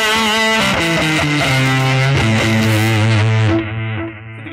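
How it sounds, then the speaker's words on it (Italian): A distorted rock electric guitar plays a sustained solo line through a Line 6 delay pedal, the notes bending and ringing loudly with echoing repeats that fade away at the end. "io ho associato un delay della Line 6 per un assolo,"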